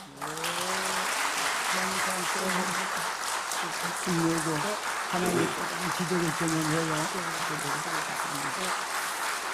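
A church congregation applauding during a Sunday worship service: steady, full clapping from many people fills the room, with a voice speaking over it through most of the stretch.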